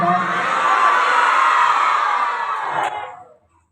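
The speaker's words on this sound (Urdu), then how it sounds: "ذرا اور بلند آواز کے ساتھ کہتے ہیں سبحان اللہ۔" Gathering at an Islamic academy's results ceremony in Ghorghushti chanting together even louder, a full, sustained swell of many voices that holds strong before trailing off into silence near the end.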